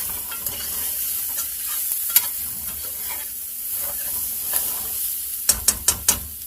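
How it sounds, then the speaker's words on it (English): Ingredients sautéing in a frying pan for a fried soup, a steady sizzle with occasional utensil scrapes and a quick series of sharp taps near the end, close and fairly quiet with no talking. "we're going to sauteing for a few minutes"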